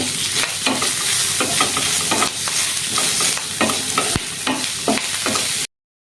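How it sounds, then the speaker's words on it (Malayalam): Loud, steady sizzling of curry leaves dropped into onions frying in oil, with repeated scraping strokes of a spoon stirring the pan, close and continuous until an abrupt stop. "ഇനി നമുക്ക് കറിവേപ്പില ഇട്ട് കൊടുക്കാം."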